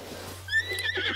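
A horse in Zelda: Breath of the Wild gives a rising whinny over a low steady game hum, with faint clip-clop of hooves, close and fairly loud.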